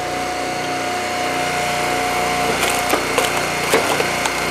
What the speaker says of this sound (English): Did you hear that engine sort of bog a little bit there?